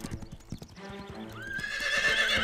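A horse's hooves clip-clop in a quick steady rhythm, followed by a long, clear whinny that rises and holds near the end, close by with no talk.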